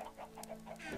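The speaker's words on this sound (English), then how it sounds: "Too many chickens." Several chickens clucking repeatedly in a video game, short bursty clucks in a steady rhythm over a constant electronic hum, moderately close and clear.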